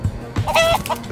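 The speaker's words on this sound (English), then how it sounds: "A lot of chickens running around might be a distraction." Chickens in the Minecraft Story Mode video game cluck in quick, loud, close bursts, with several short squawks packed into about a second.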